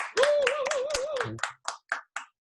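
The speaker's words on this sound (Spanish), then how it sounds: "Felicidades, un aplauso, Sebastián." A voice speaks briefly, then a handful of sharp, evenly spaced claps ring out close by, about four distinct hand claps in a row at a church youth gathering.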